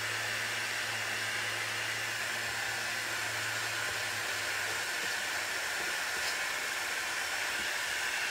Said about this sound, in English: hit it with the dryer